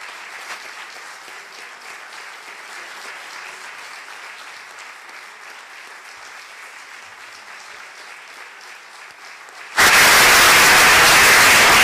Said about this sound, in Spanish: Su aplauso.